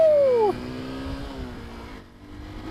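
Honda XR150L motorcycle engine pulling away: a loud, falling whine at first, then a steady rising engine drone with clear harmonics as the small single builds speed, easing slightly near the end.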